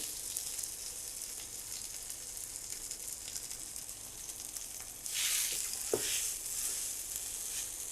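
Steady sizzle of onions frying in a pan, swelling louder as grated boiled potatoes are tipped in, with a brief scrape near the end; no voices.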